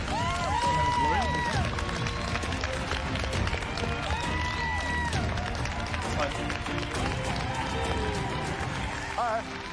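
A television cooking-competition studio audience of returning contestants cheers and claps steadily for the finalists, a lively continuous roar of applause and whoops under a host's speaking voice.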